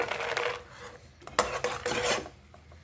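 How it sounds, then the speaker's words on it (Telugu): Roasted makhana stirred into caramel in a pan, with close scraping and clinking of a spoon against the pan in irregular strokes, moderately loud, with no talking. "ఈ విధంగా కలుపుతూ ఉండాలండి."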